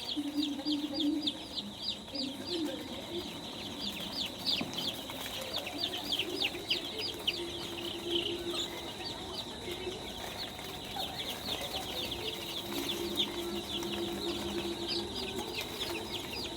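Young colour-bred chicks chasing a live frog cluck and peep continuously in a busy, high-pitched chorus, with occasional faint voices nearby.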